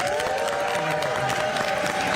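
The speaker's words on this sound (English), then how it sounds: "Give them a huge round of applause." An audience applauds state legislators at a Washington governor's bill signing for a millionaires tax, with steady clapping filling the room at close range, mixed with a little crowd noise.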